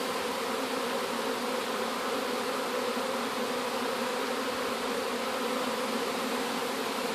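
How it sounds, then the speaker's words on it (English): A dense honeybee swarm hums in front of a beehive, a continuous, even drone of countless wings filling the whole stretch without pause or other sounds. "This sure looks like a swarm."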